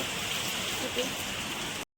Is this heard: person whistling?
no